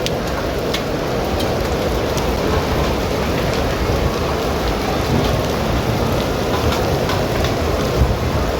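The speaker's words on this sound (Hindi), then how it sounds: "बहुत तेज़ बारिश है माशाल्लाह" Heavy rain pours steadily at Masjid Nabawi in Madinah, a dense, loud, continuous hiss and patter on stone surfaces with no letup.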